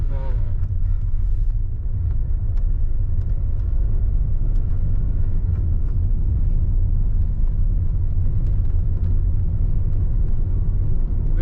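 A 2020 Hyundai Creta SX with the 1.5L diesel engine pulls in second gear, a steady, loud low rumble of engine and road noise from inside the cabin that holds even throughout.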